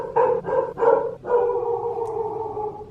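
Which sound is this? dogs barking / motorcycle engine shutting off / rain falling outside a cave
dogs barking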